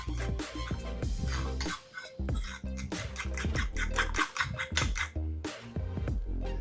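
A spoon or whisk scrapes and clinks briskly against a bowl while eggs and oats are stirred together, a busy, uneven run of close scratches and taps with a brief pause partway through.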